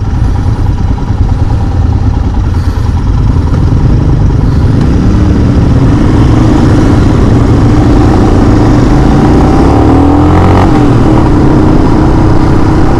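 A 2022 Royal Enfield Himalayan adventure motorcycle on the move: a loud, continuous engine drone with wind rush, and the pitch sweeps as the rider shifts and changes speed.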